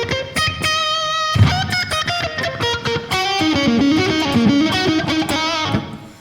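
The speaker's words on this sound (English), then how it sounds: "I'm going through the new Shaman II with a ton of reverb" An electric guitar played through a Shaman II pedal with heavy reverb, loud and continuous, with picked notes and chords ringing into a washy tail, no voices.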